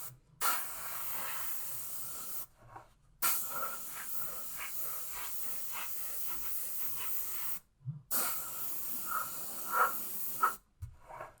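Airbrush driven by compressed air at high pressure gives a steady, close hiss in long bursts of several seconds, broken by short silent gaps where the air is shut off.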